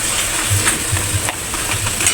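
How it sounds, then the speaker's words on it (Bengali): Potato chips fry in oil with a bright, even sizzle and a few soft stirring knocks, close and loud with no talking. "আলুর চিপ ভাজা শেষ,"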